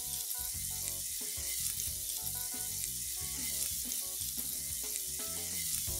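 Garlic and ginger fry in a pan with a steady, hissing sizzle that runs through the whole stretch, with tonal background music over it.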